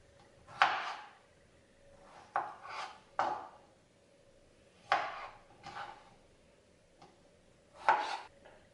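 A knife dicing strawberries on a cutting board, with sparse, distinct chopping knocks arriving in small irregular groups, close and clear against a quiet background.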